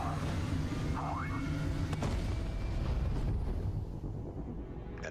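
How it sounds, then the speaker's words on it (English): A huge explosion from the Starfield video game trailer: a deep, loud rumbling blast with a sharp crack partway through, then a sustained roaring tail that slowly thins out. "An explosion."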